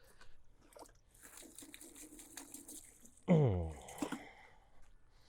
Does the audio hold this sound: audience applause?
no